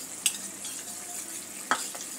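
Gravy sizzles and bubbles steadily in a pan, a soft continuous frying hiss broken by a couple of sharp pops.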